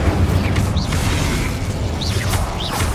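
In the Hogwarts Legacy video game, a Confringo spell goes off with booming, whooshing blasts and bursts laid over a dense rumbling backdrop, several fiery hits in quick succession with no talking.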